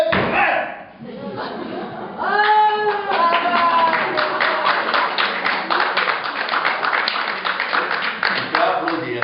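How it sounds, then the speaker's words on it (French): Hands clap in a steady, rapid rhythm for several seconds, with raised voices sounding briefly just before the clapping picks up. "Je peux applaudir, hein."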